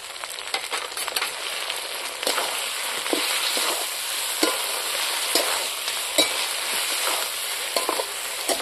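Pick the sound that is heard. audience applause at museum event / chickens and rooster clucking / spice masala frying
spice masala frying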